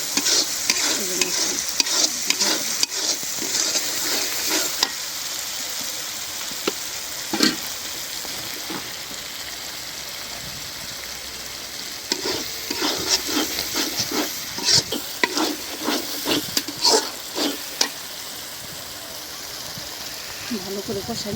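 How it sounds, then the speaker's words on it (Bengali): Onion and chili fry in oil with salt and ground spices, giving a continuous soft sizzle broken by repeated scraping and stirring strokes of a spatula in the pan, with a voice heard at times. "লবণ দিয়ে দিচ্ছি পেঁয়াজ মরিচ ভাজার সময়"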